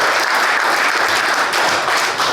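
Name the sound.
audience applause for the engineer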